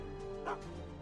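Dog in the Back to the Future video game giving a single short bark-like yip, fairly quiet, over a steady game background hum.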